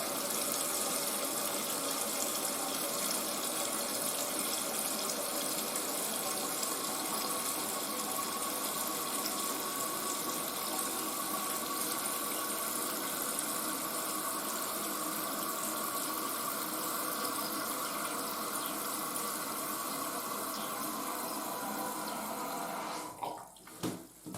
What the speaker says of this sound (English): let's wait until it's fully filled to have a flush